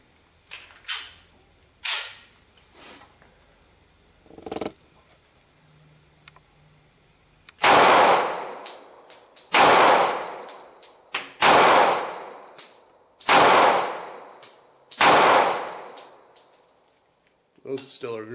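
A Springfield XDS pistol fires five sharp, loud shots at roughly two-second intervals, each ringing out with a short decay. Quieter clicks and handling noises come before the first shot.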